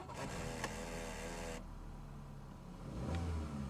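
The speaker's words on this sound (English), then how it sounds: "Right, engine sounds good, everything sounds great." A 2005 VW Golf engine cranks and catches, then revs with a steady rising drone, loud and close, settling into a rumbling idle before a second brief rev near the end.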